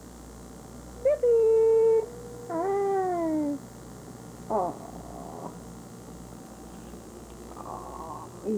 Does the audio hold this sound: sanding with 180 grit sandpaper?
no